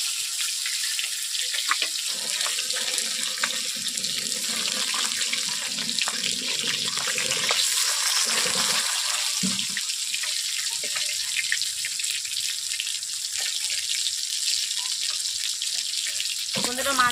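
Fish fry in a pan of hot oil with a steady, hissing sizzle that runs unbroken throughout, loud and close.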